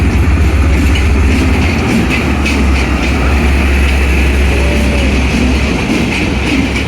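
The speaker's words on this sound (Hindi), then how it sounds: "ये दोस्तों 33 ऑफ पाक बिजनेस एक्सप्रेस लाहौर जंक्शन पे अराइवल हुआ इसका, प्लेटफॉर्म नंबर 5 पे" Pak Business Express passenger train pulling into platform 5 at Lahore Junction, a steady loud low rumble of wheels and heavy engine with faint rail clatter running throughout, no talk over it.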